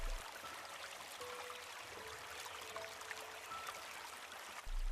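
River water flows in a soft, steady wash, faint and continuous with light trickling texture and no voices.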